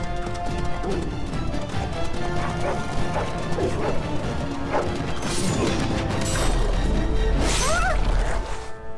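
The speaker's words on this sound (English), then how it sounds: "That's a lot of dogs." Battle noise from the video game Dragon Age: Origins, with a pack of war hounds barking amid clashing weapons and crashes, a dense continuous din that swells louder toward the end.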